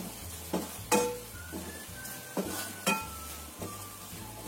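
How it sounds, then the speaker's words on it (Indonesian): Tauco dish being stirred in a pan, with a steady sizzle and a few sharp utensil scrapes and clinks against the pan, fairly close and without talk. "Kita aduk sampai rata."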